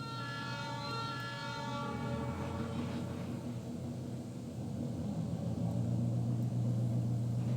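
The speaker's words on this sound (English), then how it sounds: "RS-11 is definitely one of my favorite locomotives" An RS-11 locomotive on a Pennsylvania and Berwind model railroad, its horn blowing a sustained multi-tone blast over a steady rolling rumble that continues after the horn stops.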